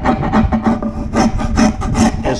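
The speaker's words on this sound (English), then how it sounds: "Now, number 50 Nicholson rasp." A Nicholson number 50 rasp files wood in fast, steady back-and-forth strokes, giving a loud, close, gritty scraping rhythm with no pauses.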